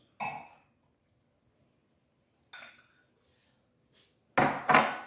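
Mangoes for a mango cobbler drop into a pot set for a medium simmer, as three separate clunks and knocks with quiet gaps between them, close by, with the last pair louder.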